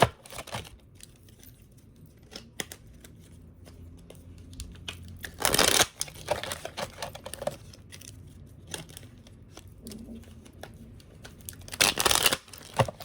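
Oracle cards are shuffled close up in a quiet room, with soft papery riffles and slides, two louder bursts of rapid shuffling and light flicking in between.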